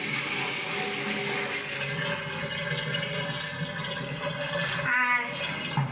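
Tap water runs steadily over items being washed by hand for cooking fish and greens in a home kitchen, a continuous broadband splash with small shifts in flow, no talking.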